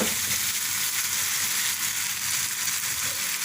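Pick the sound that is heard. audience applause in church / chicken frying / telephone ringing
chicken frying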